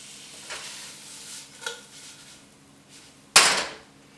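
Meat cooking in a pan for a pineapple bowl, stirred with a few scraping strokes over a faint sizzle, then a sharp, loud clatter near the end; no talking.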